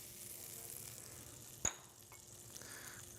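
Butter sizzles quietly in a frying pan, heating for French toast: a faint steady hiss with a single sharp clink partway through.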